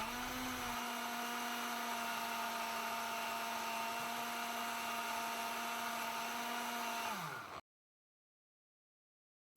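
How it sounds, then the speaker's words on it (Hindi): A kitchen grinder whirs steadily while blending cooked, softened spinach, a loud constant motor drone that winds down and cuts off abruptly near the end, with no voices. "दो से 4 मिनट आप ग्राइंडर चलाएंगे"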